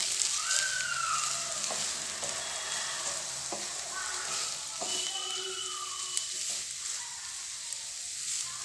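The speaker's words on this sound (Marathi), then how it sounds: "हे सगळे मसाले छान आपण आधी परतून घेऊया तेलात" Turmeric powder, salt and red chili powder sizzle steadily in hot oil, a continuous bright frying hiss with occasional stirring scrapes and faint high whistling tones in the background, no voices.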